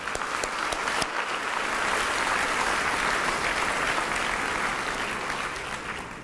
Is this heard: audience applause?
yes